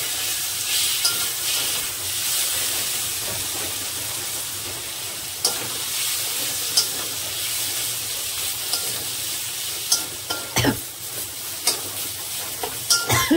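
Mashed boiled potato sautéing in a pan, a continuous mid-level sizzle under repeated spatula scrapes that grow more frequent and louder toward the end.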